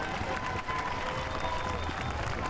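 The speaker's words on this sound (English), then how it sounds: "he is going to be the man that takes the applause from the crowd that are gathered in Castle Square" A crowd gathered in Castle Square applauds and cheers a triathlon winner, with steady clapping throughout and voices mixed into the noise.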